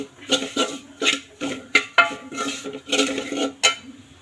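A spoon scrapes and clinks against a pan as chilli, coriander and turmeric powders are fried and stirred for Kerala-style onion theeyal, in a quick uneven rhythm of close, fairly loud strokes.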